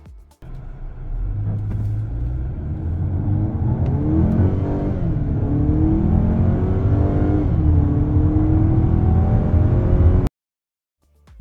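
Chery Tiggo 8 Pro Maxx front-wheel-drive SUV with automatic transmission launching hard from a standstill, engine rumble climbing through rising gear sweeps with upshift dips, loud and close for about ten seconds before cutting to silence.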